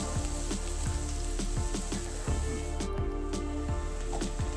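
Sliced onions sauté gently on a low flame for a Kerala-style chicken stew, a soft continuous sizzle broken by small irregular pops and spatters, close and quiet with no voices.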